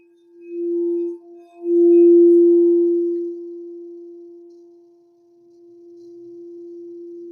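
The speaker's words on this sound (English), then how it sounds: "This sound helps the physical body relax a bit, calms the mind." A pure, steady healing tone hums during a sound healing session. It stays on one pitch while its volume swells and fades in slow waves, with faint murmurs early on.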